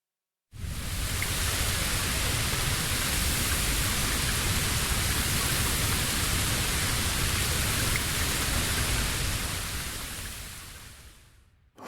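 Steady heavy rain pours down in a Bleach anime fighting video game, a dense, even hiss that starts abruptly, holds loud and uniform, then fades away near the end.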